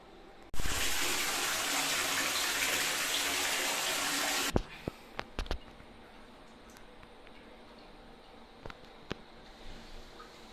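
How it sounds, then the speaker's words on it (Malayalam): A loud rush of water poured from a bucket into a toilet pours steadily for about four seconds, then stops abruptly, followed by a few scattered knocks and drips. "ചിലര് ബക്കറ്റിൽ വെള്ളം നിറച്ചെടുത്തിട്ട് കമത്തി ഒഴിക്കുന്ന ഒരു രീതിയായിരിക്കും"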